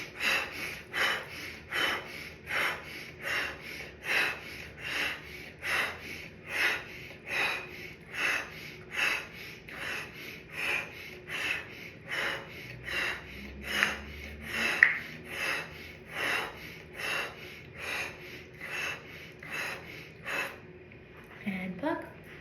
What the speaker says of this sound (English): Last round of the fire breath.